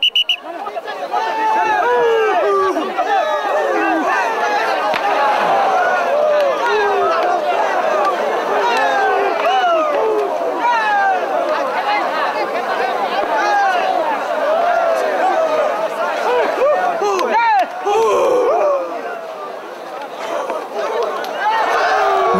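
Dense crowd cheering and shouting at a water buffalo fight in China, a loud, continuous roar of many voices with rising yells, sustained nearly the whole time before easing slightly at the end.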